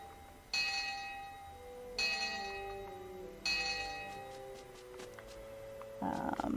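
A bell in Dragon Quest X rings three times at even intervals, each strike bright and ringing out with a long decay, followed by softer chime-like game tones near the end.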